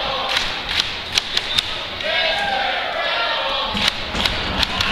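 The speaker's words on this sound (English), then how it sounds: "This crowd is into this." A wrestling crowd roars steadily throughout a match in an arena, with sharp thuds from the ring cutting through the sustained cheering and chanting.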